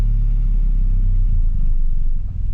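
Old Ford Cosworth engine idling roughly as it warms up, a steady close low rumble with uneven pulsing that stays alone with no talk.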